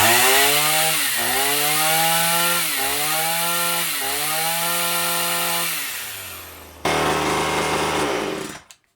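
The chainsaw attachment of a cheap Amazon-bought weed whacker runs loud and close, revving in a steady pulsing rhythm, winding down, then roaring up briefly again before cutting off, with no talking.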